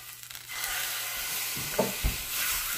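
Seasoned fish, red snapper or trout coated in garlic seasoning, parsley and garlic salt, sizzles steadily in a hot pan, with a couple of soft thumps and a surge of frying as it is flipped.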